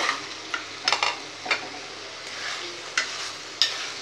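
Egg manchurian with fried egg pieces tossed and stirred in a hot pan, a soft sizzle running underneath while a spatula scrapes and clatters in several sharp, irregular strokes.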